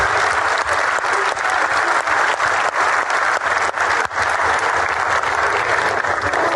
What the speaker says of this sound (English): Fellas, a round of applause.